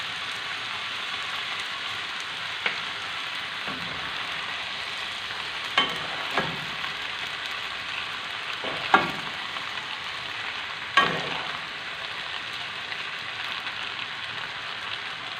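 Soy sauce and tomato ketchup sizzle steadily in a hot pan for spicy chicken spaghetti, with a few louder scrapes and clacks of stirring scattered through the continuous fry.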